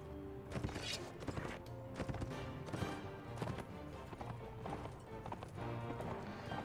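Cavalry horses gallop in the Mount & Blade video game, with a thick run of clip-clop hoofbeats and a whinny, loud and busy throughout and backed by battle noise.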